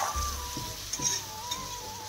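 Potatoes and mushrooms fry and get stirred in a pan, a steady low sizzle with soft scraping strokes roughly every half second and a faint high whine over the top.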